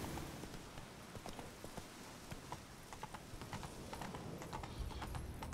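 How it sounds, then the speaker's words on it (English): Rhythmic clip-clop of horse hooves at a steady walking pace in the video game The Witcher 3, fairly quiet and continuous, with a faint whinny-like texture in the background. "Mount the horse. Let's bring it in the cave."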